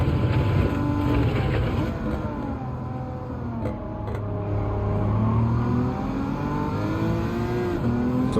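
A BMW engine in Gran Turismo 7 revs and accelerates, a steady loud droning roar with rising and falling pitch through gear changes, heard alone without speech.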